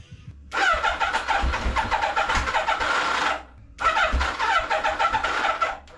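A car engine with a faulty carburettor cranks and catches twice in a row, each attempt running roughly for a few seconds before cutting out, loud and close with no talk.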